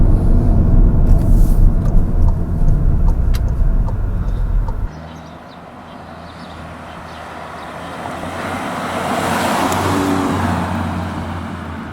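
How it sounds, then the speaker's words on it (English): A 2015 Volkswagen Golf GTI Mk7 engine in sport mode roars loudly at first, then drops away and builds again in a rising rev, heard from inside the moving car. "In sport mode, you can really hear that engine wrap up"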